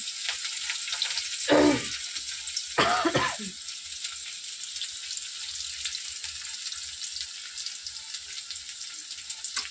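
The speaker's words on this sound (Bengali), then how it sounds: "এবারে তেলে পেঁয়াজ দেওয়া হচ্ছে।" Onions frying in hot oil give a soft, steady sizzle heard up close, interrupted by two loud bursts of a person coughing near the pan.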